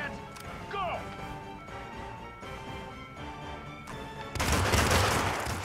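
Gunfire from the Hitman video game, a rapid volley of shots over layered game music, ending in a loud, sustained crash of heavy fire.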